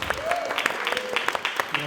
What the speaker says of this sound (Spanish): pero ahora vamos aplauso